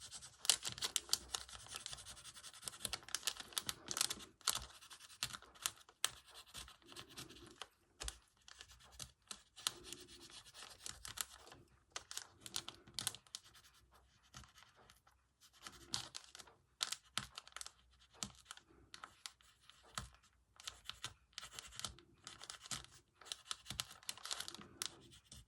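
A pencil scratching and marking through paper laid over a quilted vintage textile panel, giving irregular dry scraping strokes in close, quiet bursts with pauses between, alone without talk.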